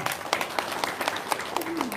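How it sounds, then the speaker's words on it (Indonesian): A small audience claps in scattered, uneven strikes at a gathering, the applause fairly close and brief with a voice briefly heard over it. "tepuk tangan dong"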